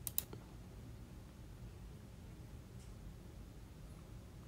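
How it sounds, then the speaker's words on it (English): A single quiet mouse click in Prosoft Configuration software, a short sharp tick or two at the very start, then faint steady room hiss with no talking. "click download."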